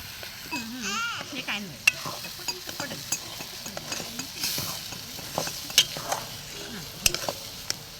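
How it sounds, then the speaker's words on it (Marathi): Masala sautés in oil on a village wood-fired stove, with a soft sizzle under repeated spoon scrapes and clinks and a brief voice near the start. "हा मसाला तेल सुटेपर्यंत छान परतून घ्यायचा"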